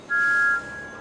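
A Thomas the Tank Engine steam whistle from a children's video game, a short steady tone that sounds loud for about half a second and then drops to a softer lingering note.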